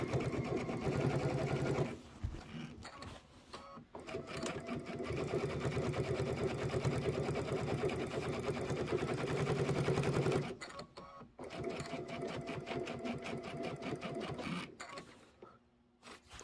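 Sewing machine piecing a quilt top, running in long, fast continuous stitching runs with brief stops between them, close and clear.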